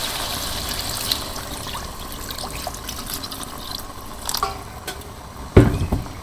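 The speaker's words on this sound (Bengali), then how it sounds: "তো এখন আমি একটু জল দিয়ে দিই।" Water splashes and trickles into a cooking pot in a simple village kitchen, a steady soft pouring with small drips, ending in a few louder sloshes near the end.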